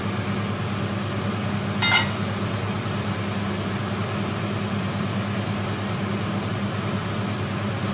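A kitchen extractor fan runs above a hob as a steady broadband whoosh with a low hum, unchanging throughout, with one brief sharp clatter early on.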